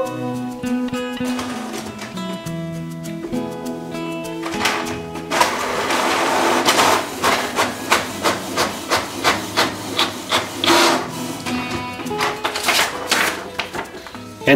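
A Canon PIXMA printer printing a sheet of checklist paper, starting with motor whirs, then a fast, rhythmic run of mechanical clicks and swishes as the page feeds through, close and moderately loud.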